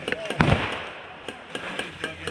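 Grenade explosion in a shooter video game on a deserted sawmill map: one booming blast near the start among scattered sharp pops and cracks, with players talking over the action.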